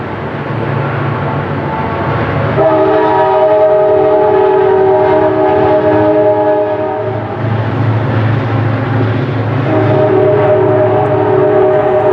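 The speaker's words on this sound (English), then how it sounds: "Kansas City Southern Railroad." A Kansas City Southern Railroad freight train passing in Louisiana, with a continuous loud rumble of rolling cars and two long, sustained horn blasts, the second coming after a pause.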